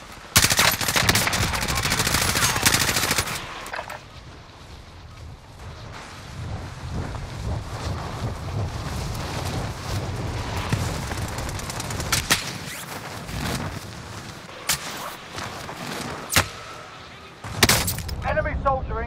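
Video game gunfire in a combat setting: a loud burst of rapid machine-gun fire, then scattered single shots and shorter bursts over a rumbling background, with a spoken voice at times.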